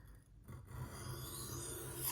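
A knife blade rasping steadily across a wet sharpening stone in close, continuous strokes with no pause, heard alone.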